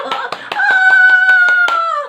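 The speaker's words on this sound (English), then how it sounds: "I'm always clapping." Close, loud hand claps, about nine in a steady quick rhythm, with a sustained tonal hum or sung note running over them throughout.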